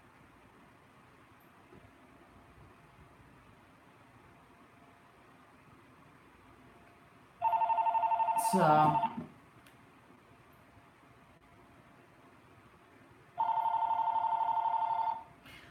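Two bursts of a telephone ringing, each lasting about two seconds and separated by a pause of several seconds, heard over a quiet room hum. A brief clunk or knock falls inside the first ring.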